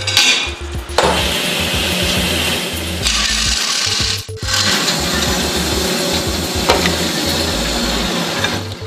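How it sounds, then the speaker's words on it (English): Metal side plates for a Harley bagger neck rake kit are cut with a power saw, a loud continuous grinding rasp in several long passes broken by short pauses, close and without talk. "Now let's cut out our side plates."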